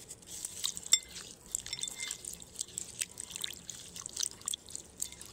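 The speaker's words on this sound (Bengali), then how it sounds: "জলের মধ্যে তুলসী পাতাগুলো দিয়ে ভালোভাবে ধুয়ে নেব" Tulsi leaves are rinsed by hand in a bowl of water, giving soft, irregular drips and small splashes, quiet and close with no talking.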